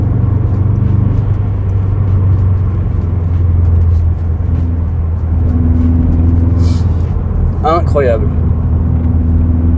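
A 2000s Subaru sports car driven gently at a relaxed pace, its engine a steady low droning rumble that fills the cabin, with someone speaking briefly over it.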